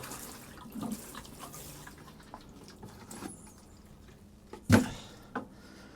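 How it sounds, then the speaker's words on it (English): A freshly sown seed tray of soil gently watered in spring: faint scattered trickles and drips with a brief louder splash, close and quiet. "I'll give that a little water."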